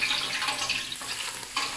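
Oil sizzles in a pan over the fire while rice with shrimp is prepared, a steady bright crackling hiss with a couple of brief louder surges, heard alone and close up.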